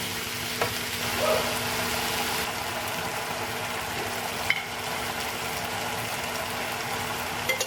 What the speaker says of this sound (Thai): แม่บ้านจะผัดให้เขาสุกนิดนึง